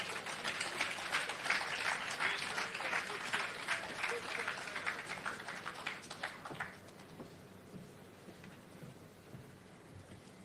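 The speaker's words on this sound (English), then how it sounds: "Can we give him another round of applause?" An audience at an official groundbreaking ceremony for Wick Hall in Jamaica gives a prime minister a long, dense round of applause that holds steady, then thins out and fades after about seven seconds.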